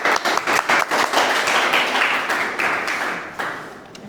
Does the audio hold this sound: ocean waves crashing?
no